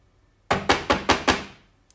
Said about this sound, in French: Il frappa